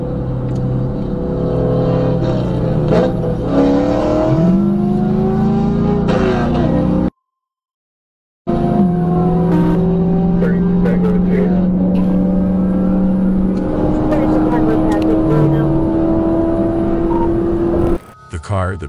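A car speeds up during a police high-speed chase, its loud engine note climbing and shifting pitch. The engine cuts out briefly near the middle, then the strained acceleration resumes close by and continues to the end.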